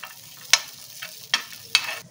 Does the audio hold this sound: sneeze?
no